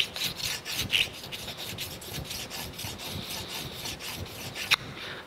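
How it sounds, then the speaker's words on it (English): A sharpening stone rubbed steadily back and forth along the cast-iron saddle dovetails of a Monarch 16-inch lathe to knock down burrs, giving a continuous close gritty rasping in even strokes, with one sharp tick near the end. "now I'm gonna stone that"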